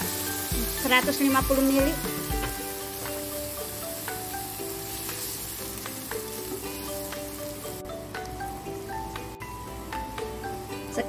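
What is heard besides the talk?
water poured into hot pan sizzling with anchovies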